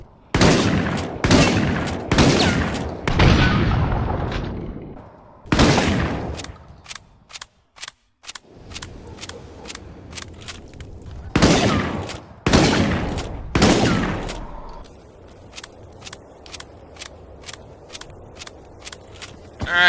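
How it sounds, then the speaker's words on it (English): An assault shotgun fires in Resident Evil: Operation Raccoon City in loud, booming blasts that come in quick bursts, each shot fading into a short echoing tail, with pauses and a few lighter mechanical clicks between volleys. "Alright, so let's test the assault shotgun."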